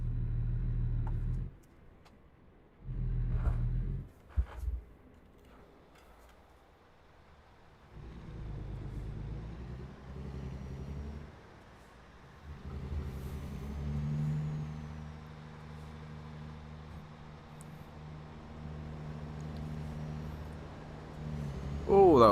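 A heavy truck drives in American Truck Simulator with a deep, steady engine rumble. It breaks into short bursts early on, then settles into a continuous drone with rising revs under occasional talk.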